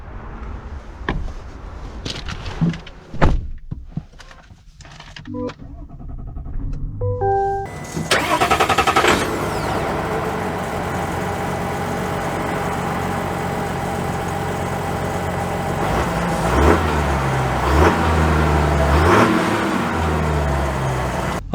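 A 2024 GMC Sierra Elevation Duramax diesel truck heard from inside: a few clicks and chimes, then the engine cranks and catches and settles into a steady diesel drone that swells as it pulls away.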